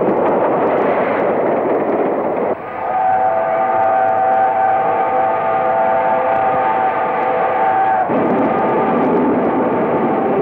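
A train rumbles steadily along, with a sustained whistle-like tone in the middle stretch, loud and close throughout.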